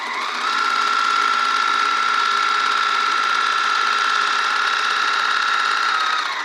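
A sewing machine runs in one steady, continuous stretch, stitching a reinforcing seam along the edge of a skirt. The hum is close and even, with no talk over it.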